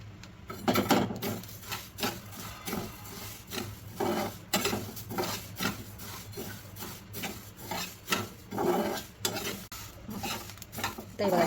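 Chilli, turmeric and asafoetida dry-roasting in a pan for pickle, with quiet, rhythmic scraping stirs and a faint crackle, fairly soft and close.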